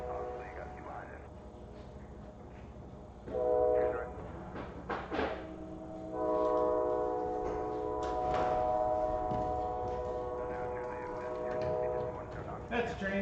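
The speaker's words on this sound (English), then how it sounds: "That's a train." A train passes near an airport runway, sounding as a low rumble with sustained horn-like tones, mixed with radio chatter and voices.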